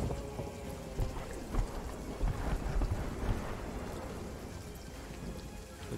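Rolling thunder and crackling lightning strikes in the pirate game Sea of Thieves, a dense, steady storm roar with rain and low booms swelling in bursts around the middle, no voices.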